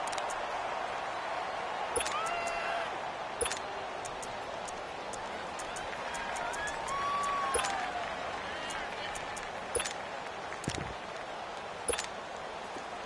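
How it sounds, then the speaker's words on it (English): Crowd noise fills the Superdome during an NFL football game between the Browns and Saints, a steady roar of fans with sharp claps and bursts rising over it throughout. "The crowd here in the Dome making things difficult."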